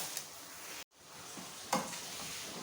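Spices are stirred in a frying pan for aloo gobi, with soft sizzling and light scraping, a brief gap of silence, and a sharper clack of the spoon against the pan.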